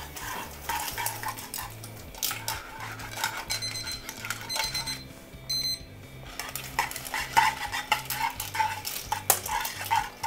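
Vongole bianco pasta with clams and Italian parsley stirred and tossed in a pan: repeated metal clatter and scraping of utensils against the pan in a steady rhythm, close up, with no voices.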